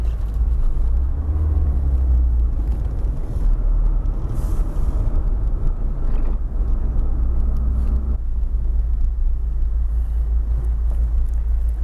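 Dense city road traffic in Cruz das Almas, Maceió, heard as a loud, constant low rumble of engines and tires close by, with passing vehicles swelling through the steady drone and no voices.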